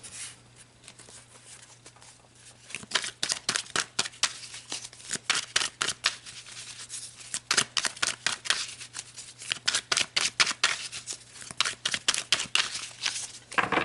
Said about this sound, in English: I just want to shuffle these good since we used them already.